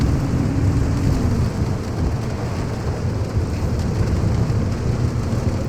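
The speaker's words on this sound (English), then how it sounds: "Oh boy, rain." Steady rain pours in the video game Pacific Drive while low thunder rumbles, forming a dense, continuous storm bed that runs unbroken and fairly loud throughout.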